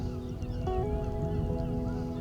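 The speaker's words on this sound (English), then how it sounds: "Look at them birds." Birds, likely geese, on the seafront at Herne Bay give a few brief honks over steady wind and background rumble, fairly faint and short.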